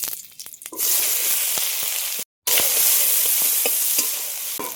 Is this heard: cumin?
yes